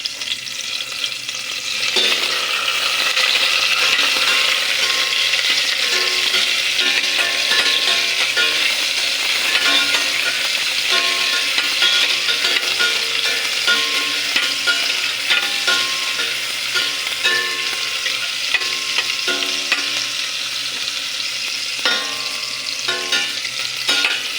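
Tomatoes frying with stirring as a papaya dish cooks, a steady loud sizzle running unbroken throughout with scraping stir sounds over it, and no voices.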